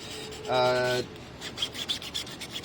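Brief tonal scraping squeal followed by irregular gritty rubbing strokes, close and fairly loud: sanding a clear PETG plastic vacuum-form mold.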